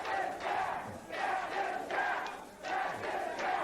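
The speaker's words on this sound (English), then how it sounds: "Strangely enough, the fans are cheering Cactus Jack." Wrestling arena crowd roaring and chanting for Cactus Jack at a Portland show, a loud, sustained mass of voices rising in repeated surges without clear speech.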